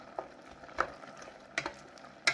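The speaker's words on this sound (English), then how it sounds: "Once it's come to the boil, you just want to give your pineapple a stir." A spoon stirs pineapple jam boiling in a pot, faint bubbling underneath with a few sharp clinks and scrapes against the pot, close and sparse.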